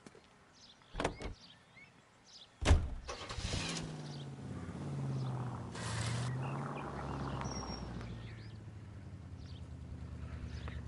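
A car in the video game L.A. Noire: door and mechanical clunks, then the engine starts and runs with a steady low hum as the car drives off, holding fairly even loudness.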